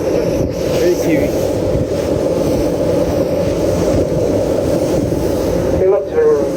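Strong wind buffeting a boat out on Milford Sound, a loud continuous rumbling roar of gusts against the microphone with engine-like drone beneath, steady throughout with a brief dip near the end.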